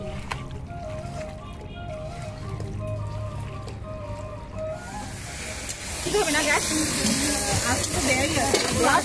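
Meat sautéed and stirred in a pan at an outdoor picnic cookout, a rising sizzle with scraping stirs in the second half, following a stretch of voices and background chatter.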